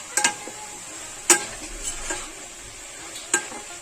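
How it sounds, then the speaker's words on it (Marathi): Vegetable pulao is stirred in a pot with a spoon, producing a few sharp scraping clinks against the metal spaced across the stretch over a quiet background, with no talk. "आता मस्त मिक्स करू आणि झाकण देऊन ठेवूया शिजसपर्यंत"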